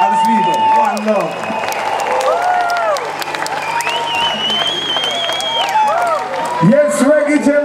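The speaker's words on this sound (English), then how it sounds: "Let's give a round of applause." A reggae festival crowd at Reggae Jam 2019 claps and cheers for the singer and the band, loud and dense, while sustained musical tones and a voice ring over the top.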